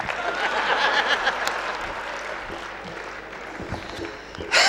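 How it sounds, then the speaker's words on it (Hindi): An audience at a 2006 Hindi kavi sammelan poetry gathering at Jaypee University of Engineering & Technology breaks into dense, loud applause. The clapping slowly thins over several seconds before a brief louder burst at the end. "जोरदार तालियां बुलाएं"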